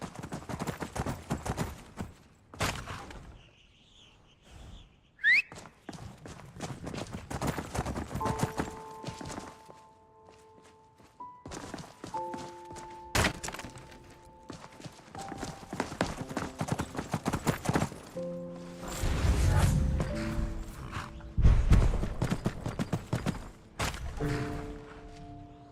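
Sound from the game Nolvus V6 of horse hooves clip-clopping in uneven bursts, with musical tones and soft effects in between and a brief whinny early on.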